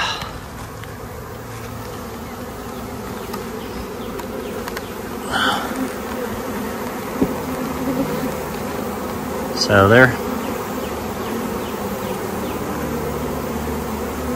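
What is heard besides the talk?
honey bee swarm buzzing on an Osage orange tree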